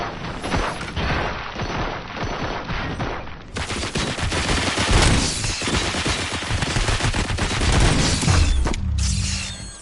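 Sustained heavy gunfire from RoboCop: Rogue City, loud dense bursts of automatic shooting mixed with mechanical clatter, running continuously with no pauses or voices.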